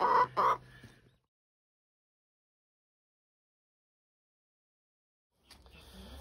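Backyard hens, including three newly added birds, give a short burst of loud, close clucking at the start, followed by a long silence and then faint rustling near the end.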